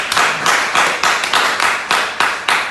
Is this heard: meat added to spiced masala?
no